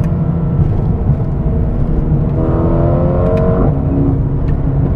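Exhaust of a 2021 Mercedes-AMG A35, muted yet audible, rising in pitch as the engine revs up and then dropping back, over loud steady road and engine noise.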